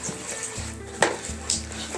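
Tomato paste, spices and jujubes fry in oil in a pan for chicken kebab, a steady soft sizzle broken by a few stirring scrapes and light utensil clinks against the pot.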